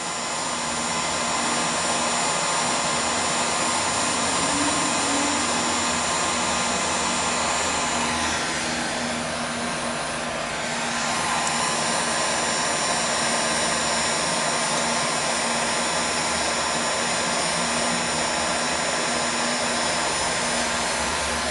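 A heat gun warms old decals on a derby racer body, blowing a loud, steady whooshing roar that dips briefly midway before resuming, close and continuous without speech.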